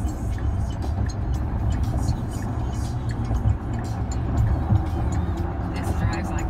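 Inside a 2019 Tesla Model X on a drive, a steady low road rumble and tire noise fills the cabin, while people talk over it.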